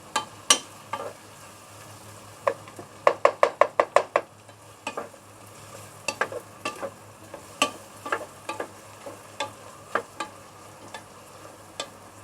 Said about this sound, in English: Okay, continue to stir fry.